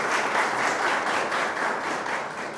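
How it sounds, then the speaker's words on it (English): A studio audience at a competition show applauds, a steady, moderately loud rush of clapping hands that eases off slightly toward the end. "Round of applause for him."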